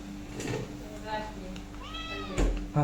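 A cat meows a few times nearby, its drawn-out cries rising and falling while people talk in the background.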